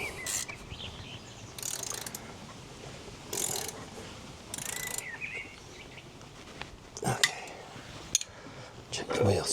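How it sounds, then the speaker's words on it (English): A motorcycle wheel with a freshly changed tyre spins freely on its refitted axle, giving off faint, intermittent mechanical whirring and ticking bursts over a quiet background. "Wheel spins."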